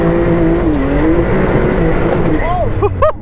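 A Can-Am side-by-side runs on a muddy trail with a steady, close engine drone. The engine pitch shifts slightly, and voices speak over it near the end.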